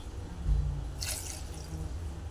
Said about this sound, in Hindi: तो देखिए ये 2 गिलास पानी डाल दी मैंने